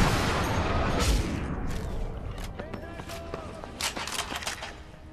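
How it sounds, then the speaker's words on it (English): Gunfire in Sniper Elite V2 snaps and pops around the player, an opening cluster of heavy shots followed by scattered sharp cracks and ricochets. "And they keep shooting at me."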